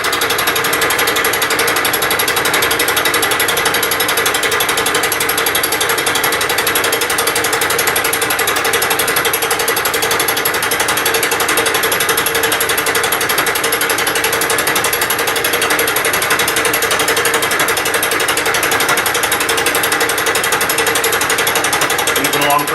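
Fly cutter taking a facing pass on a Bridgeport milling machine, a loud, steady, continuous rhythmic chatter with a high whine that holds unchanged throughout, close up and alone.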